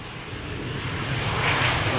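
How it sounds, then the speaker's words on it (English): KLM Boeing 737-700 jet airliner arriving at Amsterdam Schiphol on landing approach, a steady broadband engine roar that swells slightly as it nears, loud and continuous with no voices. "This is KLM flight 1614, arriving from Milan, 737-700"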